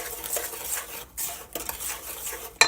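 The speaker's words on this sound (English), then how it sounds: "But you gotta keep stirring because you don't want to cook your eggs." Eggs and sugar stirred in a pot on the stove, a utensil scraping and clinking against the metal in quick irregular strokes, close and fairly loud, with a sharper clank near the end.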